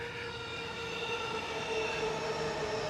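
A Chuo Line train on a Tokyo rail route slows as it pulls into a station, a steady close rumble of wheels with sustained high squealing tones and a faint shifting whine, no voices.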